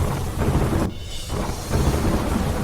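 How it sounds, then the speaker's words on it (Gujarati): Heavy monsoon downpour over the town and countryside of Modasa, a dense continuous hiss of rain with a deep rumble of thunder rolling beneath it, loud and close, without any speech. "મોડાસા શહેર, ગ્રામ્ય વિસ્તારમાં ધોધમાર વરસાદ ખાબક્યો."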